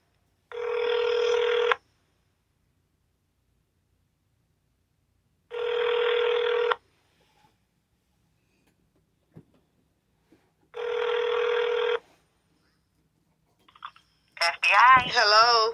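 Outgoing phone call to the FBI ringing three times, each long electronic ring separated by silence, followed by clicks and a voice answering at the end.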